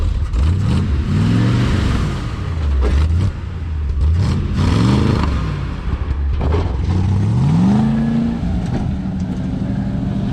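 A 1956 Chevrolet tow truck engine, long abandoned, revs repeatedly from a rough idle, with loud, close rising and falling sweeps that build to higher RPM and drop back.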